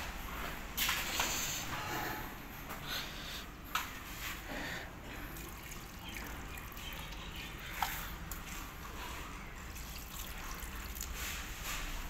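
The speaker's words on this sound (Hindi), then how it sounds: "पानी लगा दिया है सारी सब्ज़ी को" Water trickles and drips softly while potted vegetable plants are watered at home, a faint, steady wet patter with a few small splashes, no talking.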